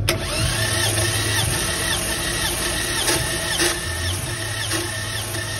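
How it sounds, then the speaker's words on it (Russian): A 2007 Toyota RAV4 with a 2-litre engine cranks on the starter during a compression test, giving a steady, loud mechanical whirr with a rhythmic pulsing beat and a constant high whine, heard close up with no talking. "Замер компрессии Toyota RAV4 2007 год, двигатель 2 литра"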